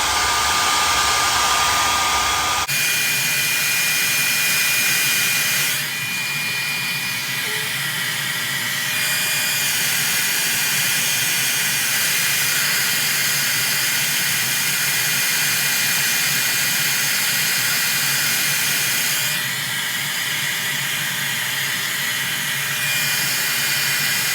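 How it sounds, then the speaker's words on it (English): A blow dryer on hot and high roars steadily at full power for over twenty seconds while drying a lace frontal wig, a loud constant whooshing hiss with slight shifts in tone as it moves. "this is when the blow dryer comes in"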